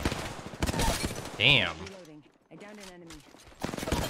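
Rapid gunshots in a shooter match of Apex Legends crack in short bursts near the start and at the end, with a player's voice talking in between.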